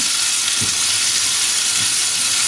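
Chopped onion and carrots fry in a pan for pork plov, giving a loud, continuous sizzle and hiss with a couple of soft stirring scrapes and no talking.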